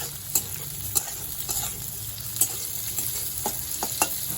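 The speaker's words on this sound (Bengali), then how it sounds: "সব কিছু আবার নাড়িয়ে নেব একটু ভালো করে ভেজে নেব" Leftover dal ingredients being stirred and fried in a pan, a steady close sizzle with repeated light scraping and tapping strokes of a spoon, and no one speaking.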